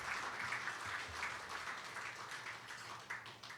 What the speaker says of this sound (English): Applaud for that.